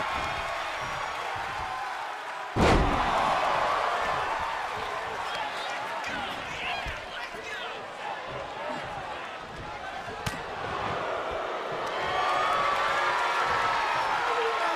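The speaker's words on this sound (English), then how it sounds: "Oh, Mulligan reverses, getting his head rammed into the buckle and slams Sawyer in." In a WWE 2K wrestling video game, a wrestler is slammed into the corner turnbuckle. A sharp thud lands early, with another impact later, under steady crowd noise and commentary.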